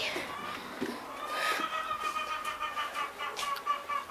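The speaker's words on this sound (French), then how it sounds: "voilà les poules qui râlent un peu" Hens grumble and cluck in a henhouse, a cluster of nearby murmuring calls and short clucks over a rainy, sheltered background, with a voice speaking intermittently.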